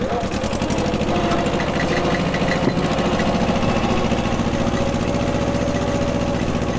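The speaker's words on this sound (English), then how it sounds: "I love being able to hitch a ride on the back of the tractor." A tractor engine chugs continuously at close range with a rapid, even mechanical knock and rattle, loud and steady throughout, heard from someone riding on the back.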